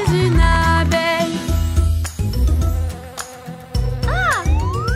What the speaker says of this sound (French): maintenant je suis une abeille